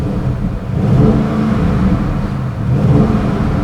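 2021 Audi RS6 Avant engine revving in its loudest RS mode, windows down, two close throttle blips rising and falling, held back near 3,000 RPM, a deep steady growl with no voices.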